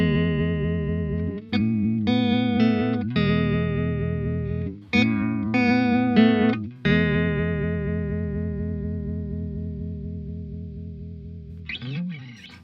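Electric guitar through an MXR Uni-Vibe pedal plays strummed chords with a swirling, throbbing modulation, several accented hits before a long ringing chord decays, ending with a short noisy string scrape.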